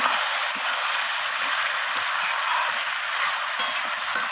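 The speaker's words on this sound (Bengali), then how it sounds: "লবণটাকে দেওয়ার পর আমি আবারও নাড়াচাড়া করে নিচ্ছি এইভাবে" Salted chicken gizzard and liver being stirred in a pan, a loud, steady hissing sizzle with faint scraping strokes of the spoon repeating throughout.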